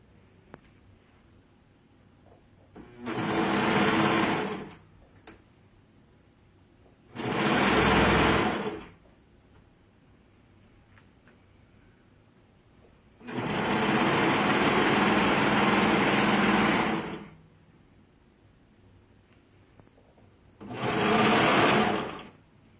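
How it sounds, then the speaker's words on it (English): A sewing machine stitches a garment armhole in four separate bursts of steady whirring, each a second or few long with quiet pauses between, the longest run in the middle, close and clear. "I'm going to go ahead and sew that armhole"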